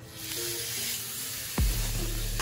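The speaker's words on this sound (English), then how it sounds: "Now listen to the sizzle." Chicken breast hitting hot grapeseed oil in a pan, a steady hiss with a sudden louder burst of sizzle partway through, close and continuous.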